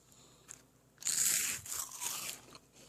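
Crunching of freeze-dried butternut squash, a loud burst of crisp bites and brittle cracking lasting about a second and a half, followed by softer chewing crunches, with no talk.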